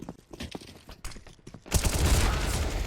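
Burst of automatic gunfire from a Counter-Strike match in a professional esports elimination game: scattered shots early, then a loud, sustained volley of rapid fire filling the last second.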